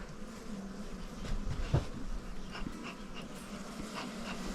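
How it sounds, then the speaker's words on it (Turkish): Bees buzzing around a weak beehive in an apiary, a steady low drone with a few louder passes close by, moderately faint with no talk. "Bak arı gelmiş."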